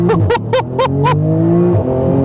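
A Porsche 911 GT2 RS launches hard from a standstill. Its loud engine revs in quick pulses at first, then pulls into one long rising wail of acceleration, heard close from inside the car.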